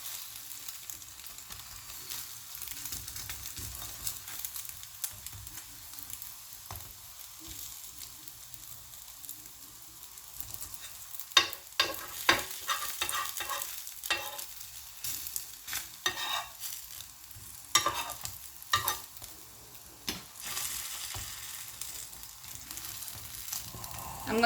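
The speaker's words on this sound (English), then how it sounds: "I'm going to flip it over like this and grease it again with clarified butter." Anda paratha fries in clarified butter on a flat pan, a quiet steady sizzle that grows busier halfway through with crackles and spatula scrapes, close and unaccompanied by voices.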